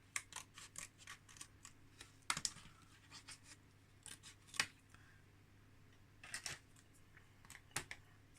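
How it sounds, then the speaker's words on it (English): Scissors cutting out a decal snip in irregular bursts of short crisp cuts, close and fairly quiet, with pauses between clusters of cutting. "I use my scissors where I can."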